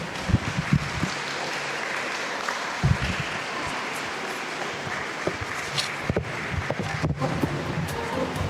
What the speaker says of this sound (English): please join me in giving a warm round of applause as we welcome our chief guest